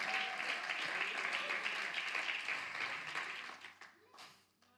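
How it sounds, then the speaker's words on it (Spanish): Audience applause at a church retreat teaching session, a steady wash of many hands clapping that gradually thins and fades out, faint and somewhat distant, with voices mixed in. "Alguien dele un aplauso fuerte a la gloria de Dios"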